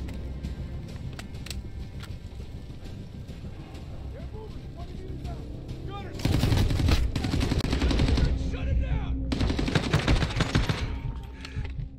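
Machine gun fire in the Call of Duty Modern Warfare game, starting as distant rattling bursts under soldiers shouting, then swelling into loud, dense sustained automatic fire with brief gaps.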